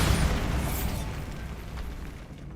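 A Bombarda spell explosion in the video game Hogwarts Legacy: a loud, broad blast that rolls off into a fading rumble, with no voices over it.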